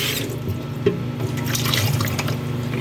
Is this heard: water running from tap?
yes